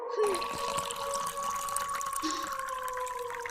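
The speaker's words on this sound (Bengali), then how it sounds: "ওই তো কল, এখান থেকেই ভরে নিই জলটা।" Water running steadily from a tap as a container is filled, a continuous bright hiss with a sustained tone, fairly close, with a brief low sound partway through.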